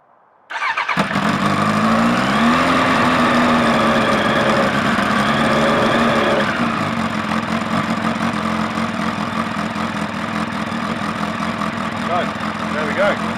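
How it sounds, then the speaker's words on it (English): A Suzuki Bandit motorcycle with a max torque cam and baffled exhaust cranks and fires loudly, revs up briefly, then settles into a steady, close, rumbling idle. "So first time firing it up with lots of things changed and that lovely max torque cam fitted."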